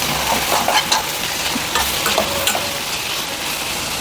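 Prawn curry simmering and sizzling in a pan, a continuous bright crackle with intermittent stirring scrapes and small pops, close and unbroken with no talking.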